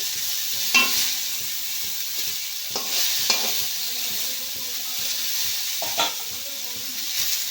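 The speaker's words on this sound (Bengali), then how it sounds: "ভালো করে ভেজে নিতে হবে" Mixed vegetables for Bengali shukto sizzle steadily in hot oil in a pan, with a broad, continuous frying hiss and a few sharp scrapes and clatters of stirring scattered through it. No one speaks.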